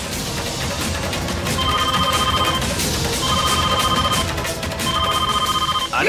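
A phone ring plays in three evenly spaced electronic bursts while a call is returned, loud and close over a busy, noisy background.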